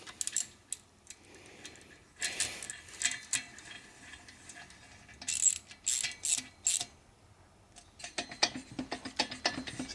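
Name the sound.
ratchet tightening head bolts on Harley flathead motor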